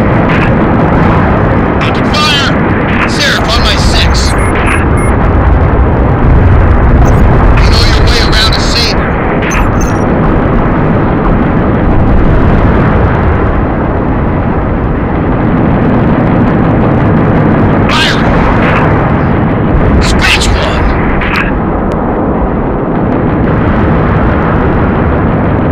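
Banshee aircraft gunfire in Halo: Reach, loud bursts and blasts within a dense, constant battle din, with game dialogue spoken over it.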